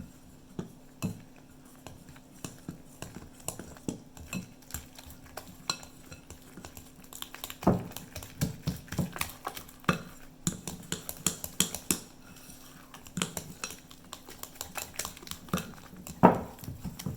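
Someone stirs sausage muffin batter in a bowl, a spoon scraping and clinking against the sides in a steady irregular rhythm, close and fairly quiet with no voices.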